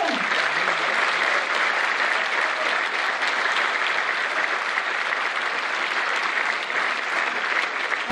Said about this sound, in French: on va les applaudir aussi très fort, nos musiciens